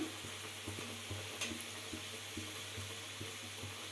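Wheat flour kajjikaya fry in oil with a steady close sizzle, joined by rhythmic soft scraping strokes of a stirring spoon.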